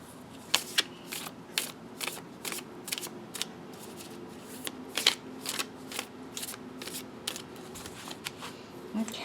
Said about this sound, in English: I'll give it a good shuffle here